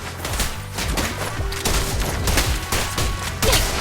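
Zenless Zone Zero gunfire rattles in dense, continuous volleys. The shots come loud and close, with quick repeating cracks layered over a busy combat mix.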